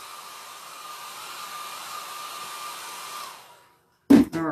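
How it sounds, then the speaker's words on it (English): A cheap $10 travel hair dryer blows steadily on its cool setting, a continuous close whir for over three seconds before shutting off, followed by a brief loud knock or bump. "I'm using the cool setting on my hair dryer."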